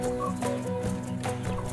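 Chickens in a backyard coop cluck in short, uneven bursts over a steady low background, fairly close and without talking.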